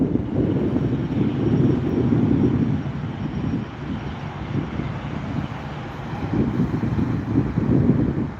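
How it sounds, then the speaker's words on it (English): A Southwest Boeing 737-700 airliner passes at a plane-spotting spot by the airport, giving a steady broad jet roar that swells and eases over several seconds, mixed with wind noise and no talking. "This one's a Southwest 737-700 going to Sacramento"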